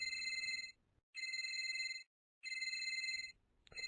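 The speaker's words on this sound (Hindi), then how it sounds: "और तभी अचानक से उसका फोन बज उठता है।" A mobile phone rings with a bright, electronic bell-like tone in three sustained bursts separated by brief silences, fairly clear and close with little else behind it.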